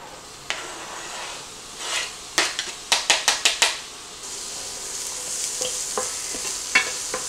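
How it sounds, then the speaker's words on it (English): Diced yellow onion fries in a skillet, a steady close sizzle punctuated by a quick run of sharp spatula taps and scrapes against the pan, then softer scattered stirring clicks. "I love cooking onions in a pan before I make anything because it just smells delicious"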